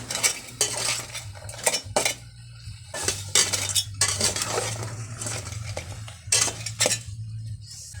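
Lobster and crabs being stirred in a metal pot, with repeated scraping clinks and clanks of a utensil against the pot in an uneven rhythm, close and fairly loud, a low steady hum underneath.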